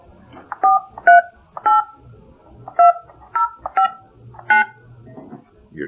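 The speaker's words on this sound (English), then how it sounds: "You're tech savvy. You can dial." Telephone keypad dialing at a county commission meeting, with a run of about eight distinct dual-tone DTMF beeps in an uneven rhythm, close and clear over a faint room background with no talking.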